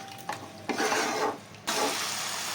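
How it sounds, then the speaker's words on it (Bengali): Masala is stirred and sautéed in a kadai over a low flame for a chicken dish, giving scraping spoon strokes in several bursts over a soft steady sizzle. "ওভেনের ফ্লেমটা একটু স্লো করে নিয়ে ভালো করে কষাতে হবে 2 মিনিট"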